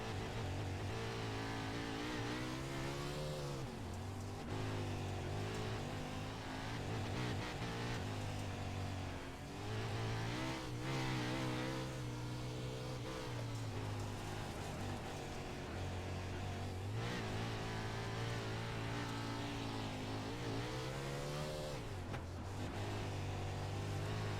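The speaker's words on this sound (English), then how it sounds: "Listen to him working the throttle" Silver Crown race car at Eldora Speedway dirt oval, the driver working the throttle in traffic: continuous loud engine roar with repeated rises and dips in pitch as revs swell and ease, steady throughout.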